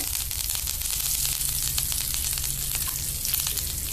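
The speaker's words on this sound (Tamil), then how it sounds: "எல்லாத்தையும் போட்டு எண்ணெயில் வறுத்துக்கணும்" Chillies, tamarind and curry leaves fry together in hot oil, giving a loud continuous crackling sizzle with a few faint stirring scrapes, close up and without any talking.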